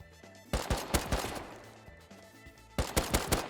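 Rapid gunfire bursts in the survival game Rust, two volleys of several sharp close shots separated by a brief lull, loud and with no talking.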